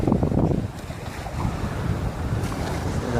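Ocean surf washes onto a beach in Portugal, a continuous roar of breaking water heavily buffeted by wind rumbling across the microphone.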